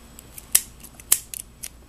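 Two crisp snips of scissors cutting crochet yarn on a cup cozy, with a few fainter clicks of the blades between and after, close and quiet.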